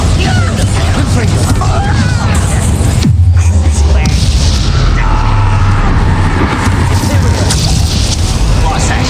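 The Bombarda spell blasts in the Hogwarts Legacy video game, with a loud booming explosion and crashing debris amid dense combat effects and a voiced spell call.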